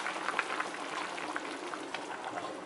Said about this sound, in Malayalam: ഇപ്പം നമ്മളുടെ കോഴിക്കറി നല്ലപോലെ തിളച്ച് തുടങ്ങി.